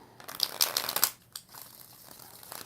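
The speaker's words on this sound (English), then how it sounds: "So let's get 4 shuffles for Alex Haley." Tarot cards being shuffled by hand, a quick burst of crisp crinkling riffles up close, then quieter soft shuffling.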